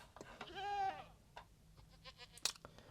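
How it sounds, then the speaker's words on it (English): Goats bleat in the Minecraft video game, one clear wavering bleat up close followed by fainter, shorter calls and a sharp click near the end. "We got the goats up here, bro."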